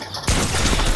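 A single sharp, loud gunshot in the video game Fortnite bursts out suddenly, followed by a brief noisy rumble as it fades.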